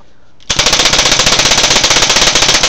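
An Autococker paintball marker fires rapidly in a loud, close, even burst of roughly twenty shots in just over two seconds, each a sharp pop of compressed air, starting abruptly after a moment of quiet.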